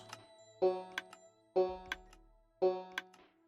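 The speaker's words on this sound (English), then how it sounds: "you'll hear this ping 8 times" Minecraft redstone signal pings repeating in a game, sounding as crisp ticking clicks in clusters roughly once per second, close and clear with no talking.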